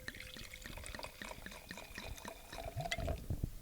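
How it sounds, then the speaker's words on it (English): Wine trickles and splashes into a glass in a quiet room, a faint continuous liquid pour with small drips and gurgles, growing slightly fuller toward the end. "Service my glass. So we're pouring."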